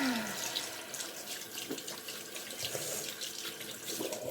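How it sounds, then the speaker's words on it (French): Water running steadily from a tap into a sink during rinsing, a continuous close splashing hiss. "Je vais rincer, donc désolé du bruit."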